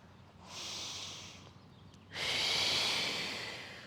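Two slow, deep breaths taken while holding a yoga pose: a soft airy exhale, then a louder, fuller one, close and quiet, with no talking.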